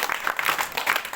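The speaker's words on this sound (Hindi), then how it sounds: "एक बार जोरदार तालियां." Students clapping in a tuition classroom, a brief, steady patter of many hands at moderate loudness with no voices over it.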